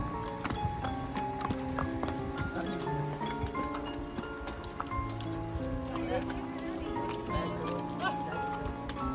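Horse hooves clip-clop in a steady rhythm during a ride up a steep mountain trail near Pahalgam, Kashmir, heard from on horseback. A voice and tonal background sound run over the hoofbeats.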